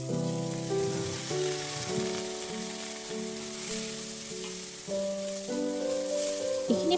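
Rice frying in a pan of ghee with almonds and cashews, a steady close sizzle throughout with faint stirring, heard under a sustained melodic tune.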